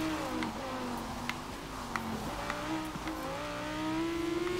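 A sports car engine revs and pulls hard through a curve, its pitch climbing and dipping with gear changes, with a few sharp clicks, heard from inside the car.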